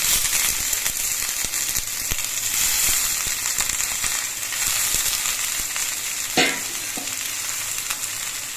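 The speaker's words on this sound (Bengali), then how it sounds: "এবার এর মধ্যে আমি এই খারকল পাতার ডাটাগুলো দিয়ে দিচ্ছি" Arum leaf stalks frying with onions in a hot pan on a gas stove, giving a loud, steady sizzle throughout with a brief sharper clatter of stirring near the end, close up and with no voices.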